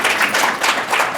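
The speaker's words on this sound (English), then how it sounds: "We need to give him a round of applause for that." A town hall audience at NBIC Unity Week claps for a PhD candidate who will defend a computer science dissertation; dense, steady applause from many hands that swells and eases in waves, with no speech over it.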